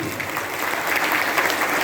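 An audience applauds, a dense, steady patter of many hands clapping together, fairly close and sustained throughout.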